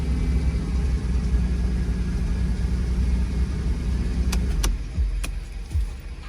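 A 2011 Mercedes-Benz E350 idles after starting, a steady low engine rumble close by, with a few sharp clicks near the end.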